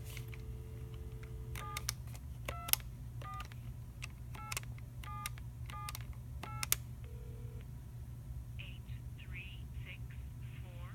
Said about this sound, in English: So I can dial that now.